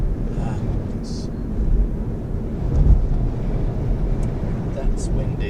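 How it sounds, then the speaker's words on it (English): Winter wind blowing hard along the Côte Sauvage coast, a steady low buffeting rumble on the microphone that swells near the middle, with faint voices in the background. "That's windy."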